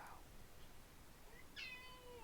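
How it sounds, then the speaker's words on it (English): A pet cat indoors beside a bed gives a single clear meow that rises and falls, fairly close but soft, against a quiet, hissy background. "And she will now meow in my ear."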